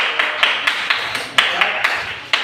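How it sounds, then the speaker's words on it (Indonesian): Audience at an Indonesian classroom session applauding, a small group's brisk, uneven claps ringing close and clear for a couple of seconds. "Oke, kita berikan aplaus buat"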